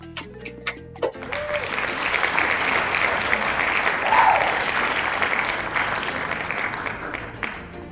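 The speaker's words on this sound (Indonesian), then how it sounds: "ayo teman-temannya yang lain kita beri applause dulu, tepuk tangan untuk teman yang telah berani maju ke depan" Students in a classroom clap for a classmate who came to the front, a few scattered claps swelling into steady group applause that tapers off near the end.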